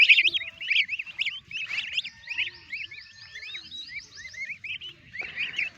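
Goslings and turkey chicks grazing outdoors on grass make a continuous stream of high, rapid peeping calls, several birds overlapping in quick chirps and whistles, close and fairly loud, with faint rustling beneath; no talking.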